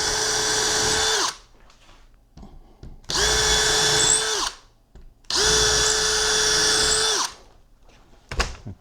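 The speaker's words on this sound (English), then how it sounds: "I put a couple of little pilot holes in." A power drill bores pilot holes into beehive wood in three loud bursts of whining motor, about a second each, with short quiet gaps between.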